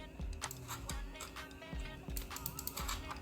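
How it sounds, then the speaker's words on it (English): Quiet, close keyboard typing as numbers are entered on a computer, with irregular clicks and small bursts of keystrokes continuing throughout. "Now I'm going to type in the numbers."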